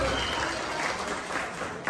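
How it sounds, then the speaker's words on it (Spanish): Applause from a Mexican-night family gathering crowd, honoring Mariachi los Reyes, a steady dense patter of clapping filling the brief moment at fairly even loudness. "Un aplauso por Mariachi,"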